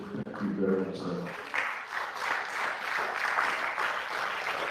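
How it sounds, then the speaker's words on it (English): Audience applause at a fundraising launch, a steady clapping wash rising after a brief stretch of talk and continuing throughout. "Keep the applause going."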